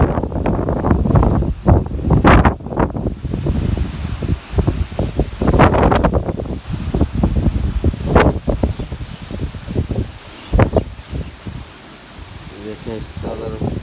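Strong wind gusts outdoors buffet the microphone and rustle garden plants in loud, uneven surges, with someone talking throughout over the roaring blasts.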